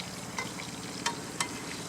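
Ranch meatballs fry in a pan on a backyard grill, giving a steady close sizzle with a few sharp pops and clicks as they fall apart.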